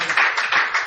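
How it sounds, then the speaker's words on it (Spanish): A church congregation clapping during a service, a brief, loud burst of many hands with a slightly rhythmic pulse, lasting about a second. "Démosle un aplauso al Rey bendito."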